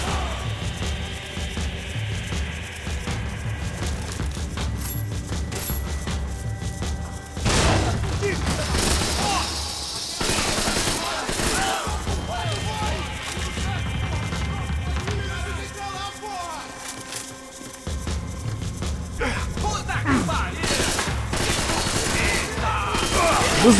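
Max Payne 3 video game gunfire, with loud shots and bursts that come and go amid other game noise, broken by a quieter gap partway through, while someone talks at times.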